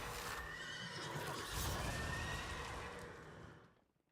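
A horse neighs in a digital card game when a horse card is sacrificed: one loud, drawn-out whinny over a noisy effect layer, trailing off into silence after about three and a half seconds.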